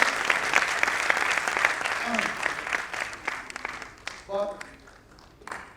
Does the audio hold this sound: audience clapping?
yes